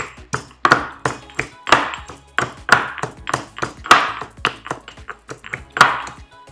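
Garlic being crushed, a series of about a dozen sharp, close pounding knocks at a steady rhythm, each ringing briefly, with no talk over them.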